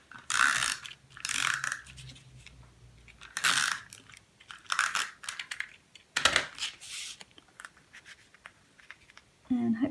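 A Stampin' Up Snail adhesive tape runner rolls across paper in short, close, ratcheting clicks, several separate bursts with pauses between them.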